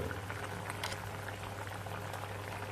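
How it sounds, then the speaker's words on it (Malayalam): Mango curry seasoned with jaggery, asafoetida and roasted fenugreek-mustard powder bubbling in a pot, a constant dense boiling burble with a low hum underneath, steady throughout and free of speech. "ഇനി ഒന്ന് ഇളക്കി വേവിക്കാം"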